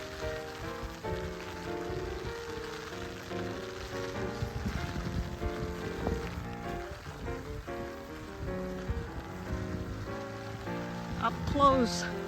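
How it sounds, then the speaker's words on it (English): Rain patters steadily on surfaces at a tea garden in South Carolina, a soft continuous drizzle with wind and faint background music. "Rainy and windy."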